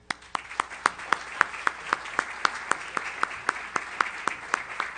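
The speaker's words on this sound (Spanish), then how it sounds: "pido que lo recibamos con un fuertísimo aplauso" Sparse, steady clapping at a Mexican federal electoral court session welcoming a magistrate, a few sharp claps in an even rhythm rather than full ovation, fairly close and without talk over it.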